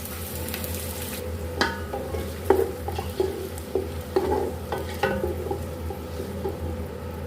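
Chopped onions, five or six of them, frying in hot cooking oil for beef nihari, a steady close sizzle broken by repeated stirring scrapes and clinks of a spoon against the pot.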